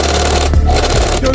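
A sewing machine whirs in quick steady bursts while stitching sleeves onto a hoodie, its close rattling run pausing briefly before starting again.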